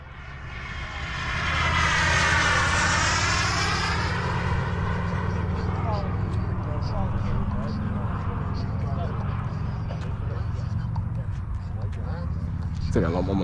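A Delta 40 RC airplane coming in to land, its engine droning steadily and fairly close, rising early and then holding a continuous whine while someone talks over it.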